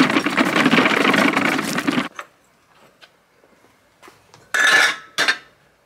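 A loaded handcart wagon rolls along at a Veluwe minicamping, clattering and rattling loudly for about two seconds, then going mostly quiet with a few scattered knocks and two short bursts of rattling.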